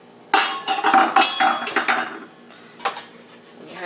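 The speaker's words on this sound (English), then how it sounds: "Now your next step is to add half of your peas." Peas are added to a casserole pot for a creamy chicken and rice casserole, giving close clattering and clinking of utensils against cookware in a quick run of knocks and scrapes, then a few fainter taps.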